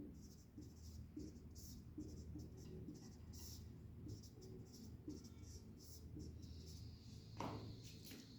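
Handwriting of binary numbers for a two's complement lesson, a faint, steady scratching of pen or chalk with scattered strokes against a low background rumble, no clear speech.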